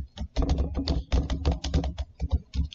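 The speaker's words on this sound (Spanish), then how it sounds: "están oyendo el tecleo y nada sale en el chat" Fast typing on a computer keyboard, dense bursts of close clicking keystrokes with brief pauses, heard alone.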